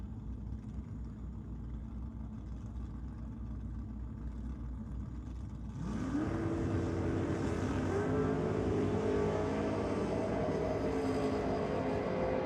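An HG Holden drag car running nitrous launches down a drag strip, its engine roaring up loudly from about six seconds over steady background crowd and engine noise, the pitch climbing as it pulls away.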